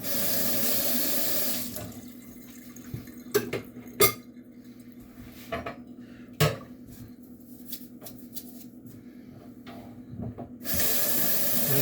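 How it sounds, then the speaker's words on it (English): A kitchen faucet runs steadily into a sink while utensils are rinsed beneath it, with scattered light clinks and knocks of cutlery and dishes rising over the constant rush of water, which briefly eases mid-way. "Each one of these probably can just be rinsed off with your regular scrub"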